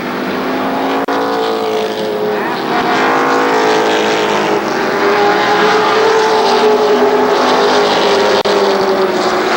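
Race cars run together around Columbus Motor Speedway at a 1994 main event, with a loud, continuous layered engine roar that stays close and steady throughout.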